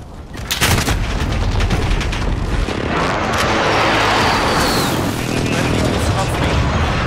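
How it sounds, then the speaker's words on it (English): Precision airstrike explosions in Call of Duty: loud, rumbling booms and blasts roll on continuously and close, with heavy low-end thunder and overlapping gunfire. "Enemy precision airstrike."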